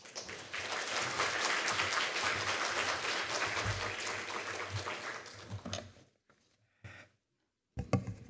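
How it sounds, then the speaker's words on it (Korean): A church congregation at a 50th-anniversary worship service applauds to welcome a speaker, with dense, steady clapping that fades out near the end, leaving a few isolated claps and silence. "나오실 때 큰 박수로 환영해 주시기 바랍니다"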